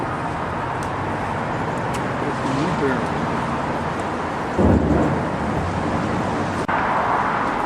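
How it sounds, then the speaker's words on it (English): Steady road traffic rumbles close beside a walking path along Hadrian's Wall, a continuous low roar with a louder passing vehicle midway, while people talk. "you can hear the road, you can hear the traffic just the side of us"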